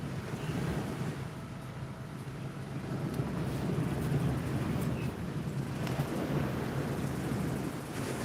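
Ocean waves wash onto a beach in Phuket, a steady broad rush of surf with gentle swells in loudness and some wind buffeting the microphone, with no talking.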